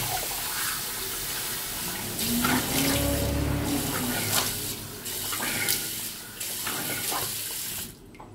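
A bathroom tap runs hot water into a sink for wet shaving, a steady close splashing stream with brief shifts as hands move through the flow, no talk.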